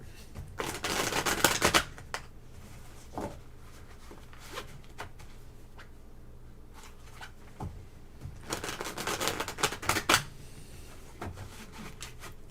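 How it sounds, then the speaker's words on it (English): Tarot cards riffle and shuffle in two brisk bursts, with quiet handling and soft rustling between them, close by. "I like the way this deck shuffles."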